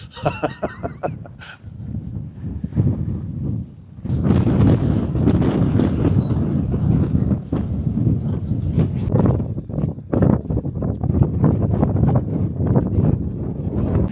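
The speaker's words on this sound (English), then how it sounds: "it's a bit windy up here" Strong gusty wind on a hilltop at Brent Knoll buffets the microphone in loud rumbling bursts, nearly constant after a brief calmer moment at the start.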